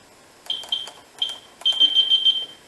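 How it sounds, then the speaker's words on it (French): A Finsecur fire alarm panel emits shrill electronic beeps in short bursts, two single tones then a rapid series of pulses, over faint background hiss. "je mets ma résistance, elle commence à chauffer, et ça part en alarme"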